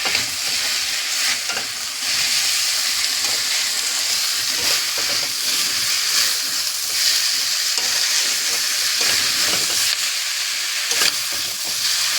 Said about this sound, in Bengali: আলু বেগুনগুলো দিয়েও একটু ভেজে নেব